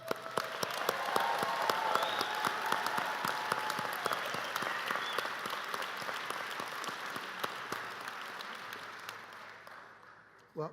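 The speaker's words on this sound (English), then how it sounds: "Let's give both groups a big round of applause." An audience at a physician assistant white coat ceremony breaks into sustained applause, many hands clapping steadily in a large hall before the sound gradually fades out.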